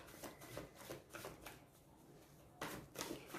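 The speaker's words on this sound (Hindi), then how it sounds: "तो बॉटम कार्ड के लिए थोड़ा सा सफल करेंगे कार्ड्स को, देन बॉटम कार्ड लेंगे," Tarot cards shuffled by hand in several quick riffling bursts, close and soft, with a short pause before a final pair of crisp shuffles.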